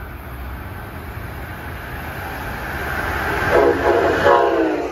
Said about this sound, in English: At 129 is train 84, Norfolk, Virginia to New York.